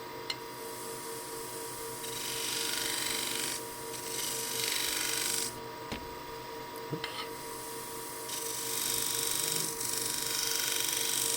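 A scraper takes light cuts across a thin-rimmed end-grain wooden bowl spinning on a lathe, giving a faint, continuous rasping hiss that swells and eases in long passes, with a few soft clicks.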